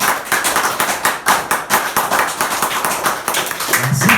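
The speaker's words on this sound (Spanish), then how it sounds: "Si lo va a aplaudir, apláudalo." A church congregation claps along in a steady, fast rhythm, a close, lively patter of many hands with faint voices underneath.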